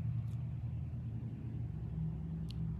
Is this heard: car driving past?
yes